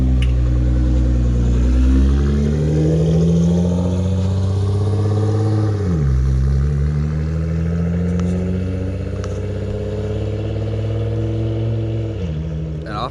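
Nissan GT-R sports car pulling away, a loud engine with rising revs through the gears and a clear shift dip partway through as it accelerates off.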